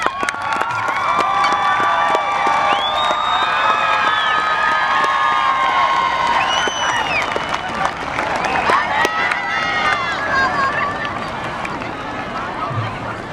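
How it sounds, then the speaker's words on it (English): A high school graduation audience rises to applaud and cheer, a loud, sustained wash of clapping with whoops, shouts and scattered voices throughout, easing slightly toward the end. "Please rise and give them a round of applause."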